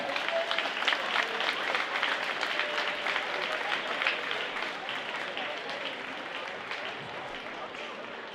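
Sustained applause from a large crowd at a school spring pep rally, steady clapping that holds for several seconds and tapers slightly toward the end.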